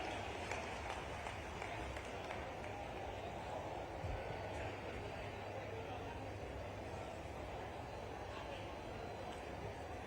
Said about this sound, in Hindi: तो तालियां जोरदार बजा दें माननीय सांसद जी के लिए